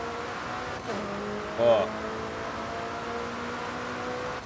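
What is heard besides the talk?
Audi R8 V10 and McLaren 720S racing in video game Forza Horizon 5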